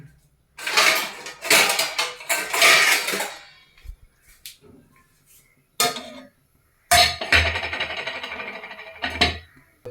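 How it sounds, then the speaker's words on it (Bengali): Metal cookware clatters and clanks up close in several bursts as potatoes go into a pot, with a final longer rattle as the lid is set and settles on the pot. "ঢাকাটা দিয়ে দেবো খালি।"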